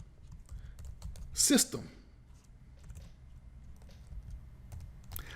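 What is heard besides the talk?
computer keyboard typing code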